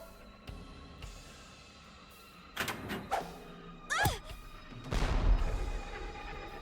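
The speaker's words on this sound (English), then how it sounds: "Explosion." An explosion in the video game AI: The Somnium Files sets off a series of thuds, crashes and metallic clatters that build to a heavier booming rumble, with game voices in between.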